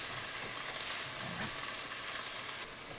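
Garlic and diced green chilies fry with well-cooked onions in a pan, giving a steady, moderate sizzle with faint stirring, with no talk, the hiss dropping slightly near the end.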